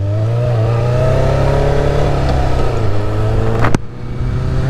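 A Suzuki GSF Bandit 600 four-cylinder motorcycle runs close by, its engine droning smoothly and rising steadily in pitch as it accelerates, then briefly cutting with a sharp change near the end.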